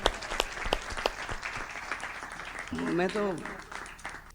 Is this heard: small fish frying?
no